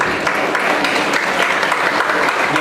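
A dense wash of audience applause fills a panel discussion, loud, steady and sustained without a break, with no speech above it.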